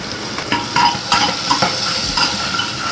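Onion sizzling in hot oil in a pan while being stirred, a steady close frying hiss broken by scraping and clinking strokes of the spoon against the pan, with no talking.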